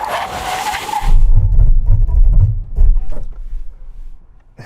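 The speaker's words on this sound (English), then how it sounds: "Full emergency stop from 60 miles an hour." A Chinese-market Audi E7X performs a full emergency stop from 60 mph; road and wind noise cut out into a rumbling, skidding tire sound that fades as the car comes to rest.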